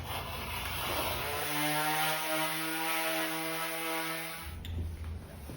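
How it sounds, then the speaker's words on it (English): Coarse 40-grit sandpaper worked over the interior of a sheet-metal machinist's tool box, a steady loud rasping hiss that runs continuously with a droning hum underneath, ending in a brief lighter scrape. "I'm going to dress up the edges and sand the interior with some 40 grit to get it ready for"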